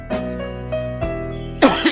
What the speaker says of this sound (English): I am always susceptible to this cough and phlegm